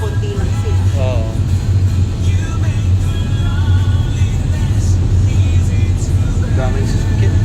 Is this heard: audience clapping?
no